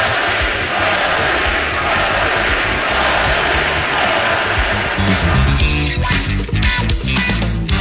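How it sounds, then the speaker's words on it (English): A hockey arena crowd at PPG Paints Arena chants loudly and continuously, a dense mass of voices that grows more rhythmic and emphatic in the last few seconds. "here are the Flurry chants from the PPG Paints Arena crowd"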